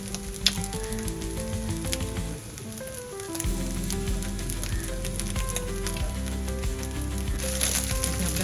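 Egg fried rice sizzling and stir-frying in a pan after vinegar is added, a steady crackling hiss with scraping stirs, heard close and alone, with a faint low hum underneath.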